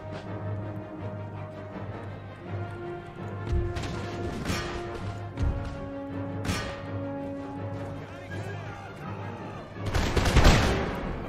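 Musket volleys in an Empire Total War battle involving the 51st Regiment, several sharp crackling bursts of gunfire over a steady game hum, the loudest ragged volley near the end.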